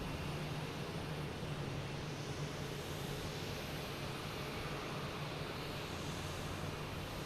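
JetBlue airliner arriving from Bozeman at Boston Logan Airport on a hazy evening, a steady broad engine rumble holding level throughout with no talk.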